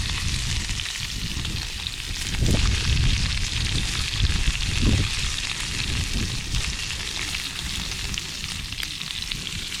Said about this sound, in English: It was definitely so good when you cook meat under wood fire for some smoky taste.